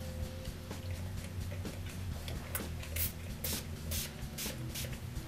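A handheld water spray bottle mists acrylic paint during blending, giving several short, sharp hissing spritzes in the second half, close up over a quiet background hum.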